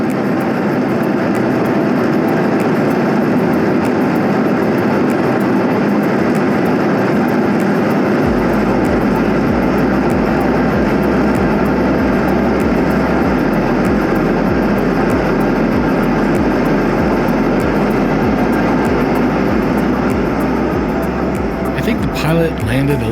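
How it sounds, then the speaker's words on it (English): A Sun Country airliner flying from Vegas to Minneapolis lands with thrust reversers deployed, a loud, dense, continuous roar heard from inside the cabin, holding steady for over twenty seconds with a deep low rumble underneath. "Pilot landed a little long today based on how long the thrust reverse was on."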